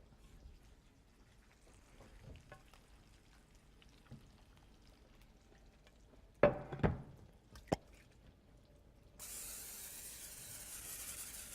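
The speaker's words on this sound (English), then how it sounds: "I'm going to spray my casserole dish with cooking spray." Cooking spray goes into a casserole dish in a home kitchen while a sausage and Gorgonzola bake is prepared. A few short, close hissing bursts come first, then a steadier, quiet spray hiss to the end.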